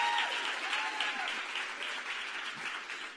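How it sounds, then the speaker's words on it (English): Round of applause from a summit audience for the steering committee, a dense, fairly faint wash of many hands clapping that stays steady throughout without voices. "So give Amy and the steering committee and Kimberly and everyone a round of applause."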